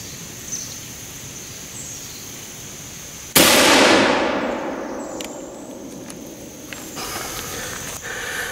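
An East India Company .75 percussion musket fired into stacked plywood sheets: a single sharp, loud blast partway through, followed by a long decaying echo against a quiet outdoor background.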